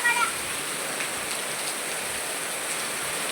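Steady rain falls outdoors as an even, soft hiss of drops on surfaces, continuous and fairly faint with no voices.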